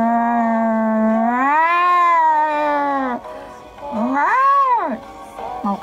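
A human voice imitates a cat's growl with long, wavering, drawn-out yowls, loud and close, one sustained call followed by a shorter rising-and-falling one.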